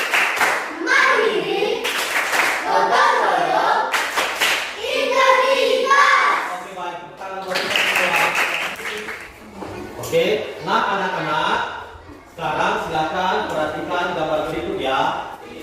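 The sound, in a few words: classroom rhythmic clapping chant, Tepuk PPK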